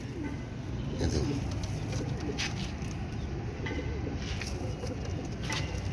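Royal Teddy pigeons in a loft cooing, low throaty coos overlapping continuously at close range against a busy background, with faint chirps and occasional soft voices.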